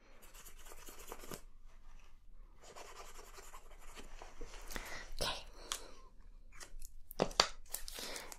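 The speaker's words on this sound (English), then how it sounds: "Just gonna sketch out the rest of that hem" A marker or chalk scratching short strokes across fabric to sketch out a hem, soft rubbing and rasping marks in close, quiet bursts with pauses between.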